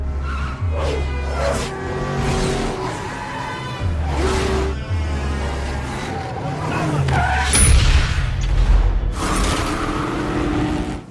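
A car driven recklessly through a chase skids again and again, with tires squealing over a steady engine roar and low rumbling for about eleven seconds.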